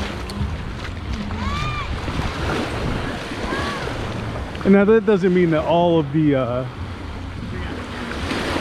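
Rough, choppy surf washes steadily onto Negril Seven Mile Beach in Jamaica, with wind buffeting the microphone throughout and someone talking over the waves partway through.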